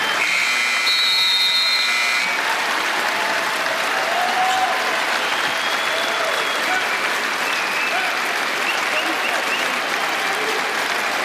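An NBA arena crowd applauds loudly and continuously, a dense roar of clapping and cheers lasting the whole stretch, with a brief electronic buzzer-like tone early on and commentators talking underneath.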